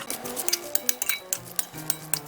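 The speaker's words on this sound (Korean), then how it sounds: "잘 골고루 풀어줍니다" A spoon clinks and scrapes rhythmically against a bowl, stirring a chili seasoning mixture for grilled eggplant in quick, steady strokes with no talking.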